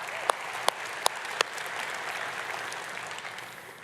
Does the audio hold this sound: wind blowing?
no